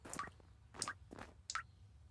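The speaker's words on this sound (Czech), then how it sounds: "Homie, kape nám kohoutek!" A leaky cartoon water tap dripping, four soft, close drops with a wet plopping quality falling at an even pace over faint background hum.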